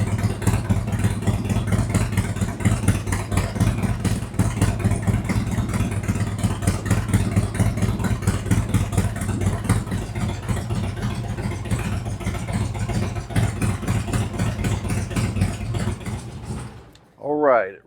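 A motorcycle engine idles steadily during a ThunderMax initial idle tune after a full Stage 2 upgrade, a loud, even, rhythmic mechanical rumble that runs continuously before cutting out near the end with a brief rising sound.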